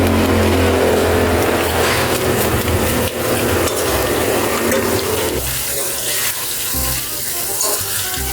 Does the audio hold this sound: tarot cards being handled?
no